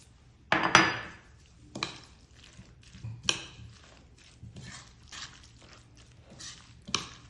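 Batter with coriander leaves stirred in a bowl, heard as a sharp clatter followed by intermittent soft scrapes and taps of a utensil against the bowl, fairly quiet and close.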